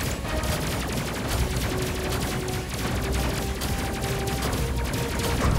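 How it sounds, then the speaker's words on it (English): Railgun fire from the spaceship combat game Space Crew, a dense, continuous barrage of rapid shots and impacts that stays loud and steady throughout, with no voices. "There's a railgun doing its stuff."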